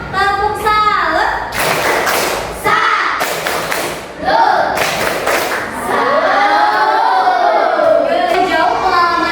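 Classroom of students doing a rhythmic group salute clap, loud bursts of clapping and thumping in short beats from a crowd nearby, mixed with voices calling out and chanting along.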